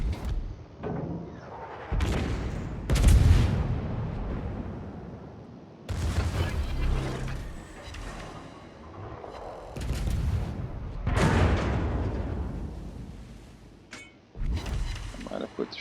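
Heavy naval guns fire in a World of Warships battle involving the battleship Kansas, with several deep booming salvos rolling out at intervals under steady commentary from someone talking throughout.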